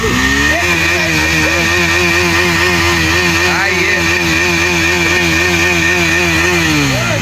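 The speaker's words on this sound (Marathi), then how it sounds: "आता ड्यूकचा आवाज." A KTM Duke motorcycle engine runs loud and close, revving up and down in repeated waves with a buzzy, rasping tone.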